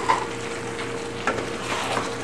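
Toasted unsalted peanuts get stirred into bubbling kung pao tofu, a brief close burst of sizzling with a few soft scraping knocks of the spoon and no talk.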